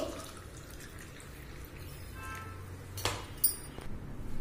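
Warm water is poured into a drinking glass in a quiet home setting, a faint trickle and drip followed by a couple of soft glass clinks near the end.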